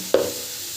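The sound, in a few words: fried soybean sizzling in pan as turmeric is added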